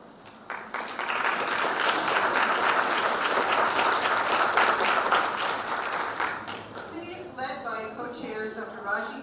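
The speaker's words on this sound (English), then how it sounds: "also please stand for applause" Audience applause for committee members at an urban education event, a dense sustained clapping that swells after a moment and then thins as a voice begins speaking over the tail.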